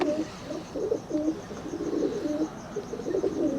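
Soft, repeated cooing of a large, strong pigeon, close by in a steady low throbbing rhythm, with faint background noise.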